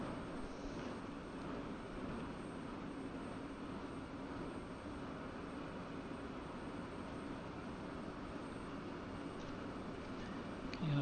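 An F-16 jet engine in a flight simulator spins up with a steady, low rushing whine and roar, faint and continuous without clear change.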